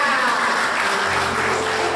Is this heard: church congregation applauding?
yes